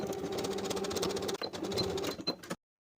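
A sewing machine runs steadily, stitching outer fabric layers of an athletic top's cuff closed, with a fast mechanical whirring and rhythmic needle clatter that stops after about two and a half seconds.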